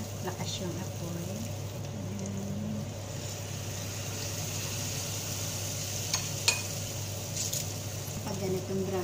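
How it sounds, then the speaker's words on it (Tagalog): Steady, soft sizzling of banana fritters frying in hot oil over a low flame, with occasional light clinks and stirring noises over a low background hum. "prito na natin to. Guys, at mainit na ating mantika."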